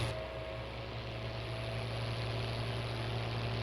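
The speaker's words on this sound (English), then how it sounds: "Just listen to the sound of this tractor." Tractor engine running in a 1990s-style Farming Simulator game, a steady, unbroken droning rumble with a fairly even tone, heard alone without voices.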